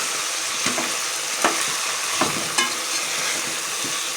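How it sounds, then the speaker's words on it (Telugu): Cluster beans and potato curry with coriander powder fry in oil, a steady close sizzle punctuated by four or five spatula scrapes at an uneven pace, with no voices. "బాగా 2 నిమిషాలు బాగా ఫ్రై అవనిద్దాము"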